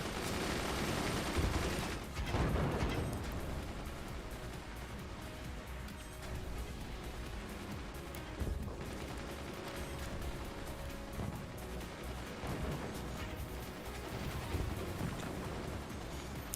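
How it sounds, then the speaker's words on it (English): Heavy mortar fire in the strategy game Forts: a dense, loud, continuous barrage of booming blasts and rattling gunfire, with sharper thuds punching through around the two-second mark. "The heavy mortars are now in play."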